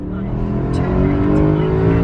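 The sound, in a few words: BMW E92 M3 V8 engine revving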